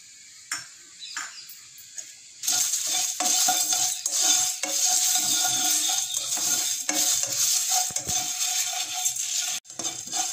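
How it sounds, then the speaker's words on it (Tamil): Coriander seeds and cumin dry roasting in a pan over a low flame, giving a steady crackling, rustling sizzle with light stirring clinks close by. "ஸ்டவ்வை லோ ஃப்ளேமில் வச்சு ட்ரை ரோஸ்ட் பண்ணிக்கலாம்."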